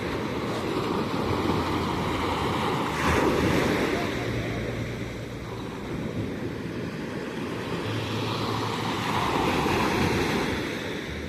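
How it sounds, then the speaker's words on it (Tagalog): Ocean surf rolls and breaks continuously on a beach, a steady loud wash of waves with gusts of wind noise over the microphone and a couple of swelling peaks. "Nakaka-relax yung ano, yung alon."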